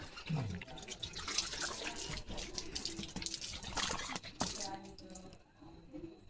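Water runs from a hose or tap at low pressure in a steady, close splashing stream, with a voice briefly audible beneath it.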